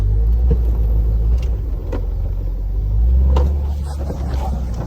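A project car rumbles low and loud from inside the cabin while driving slowly and turning, with faint clicks and thumps riding over the steady engine drone.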